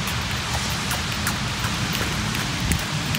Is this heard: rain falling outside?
yes